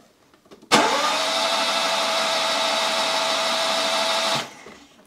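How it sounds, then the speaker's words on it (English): A Nissan Micra K11 engine cranks over with the spark plugs removed, a steady whirring starter drone that starts abruptly, holds evenly for several seconds, then cuts off. "I'm just gonna crank the engine over without spark plugs in"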